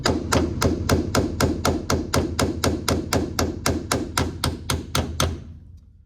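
Steady hammer blows strike a part on a school bus during a roof raise, about three strikes per second in a regular rhythm for five seconds, close and loud, then stopping abruptly.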